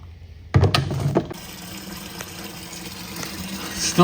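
Fuel gushes out of the fuel tank of a 1964 Ford Galaxie after a sudden splashing start, then settles into a steady, close liquid pouring stream that continues to the end.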